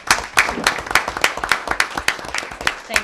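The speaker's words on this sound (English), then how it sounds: "So Let's give Caroline a round of applause." A town council meeting in Fort Mill breaks into a round of applause, dense crowd clapping with sharp bursts over about three seconds, fairly loud and steady with no talking.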